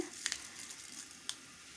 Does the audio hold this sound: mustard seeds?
yes